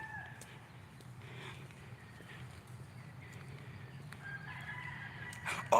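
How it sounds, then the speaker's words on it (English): Chickens squawk and cluck in a backyard garden behind the recording spot, mid-distance and moderately loud, with repeated calls over a steady outdoor background. "what them chickens back there doing? They back there screaming."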